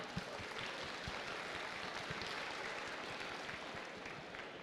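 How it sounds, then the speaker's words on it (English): An audience at a hackathon opening ceremony claps in a steady, dense round of applause that holds evenly throughout. "Let's give her another round of applause."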